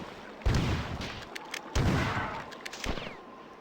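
An enemy weapon in the video game Marathon Infinity fires rapidly, heard as a few heavy, booming blasts with rumbling tails that stand out loud and close among fainter sharp reports.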